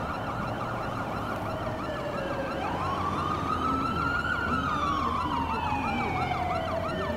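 An ambulance siren in Watch Dogs 2 wails loud and close while the vehicle drives, rising and falling steadily over road and engine noise.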